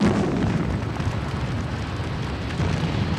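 A dense, sustained roaring rumble from a crude oil tank boilover explosion, loud and continuous with no pauses, no voices heard.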